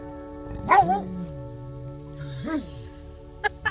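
A dog barks twice at night at a camper in Anza-Borrego, a sharp bark followed by a shorter one a moment later, with quiet background noise in between.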